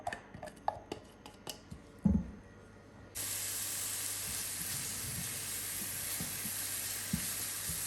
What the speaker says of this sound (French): Donc je viens ajouter ici l'oignon et 2 gousses d'ail hachées. On les fait revenir 2 minutes avant de rajouter nos lardons.